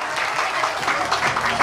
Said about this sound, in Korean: 박수 하면 정답입니다. 박수!